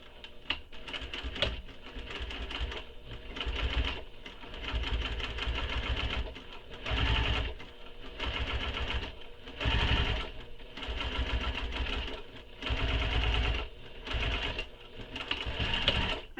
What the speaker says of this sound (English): So we're going to top stitch this across the base panel.